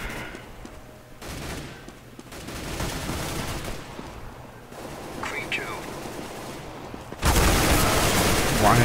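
Bursts of gunfire from CS:GO come at mid distance, separated by quieter stretches, and build into a loud, dense barrage at the end. A player's voice is faintly audible in places.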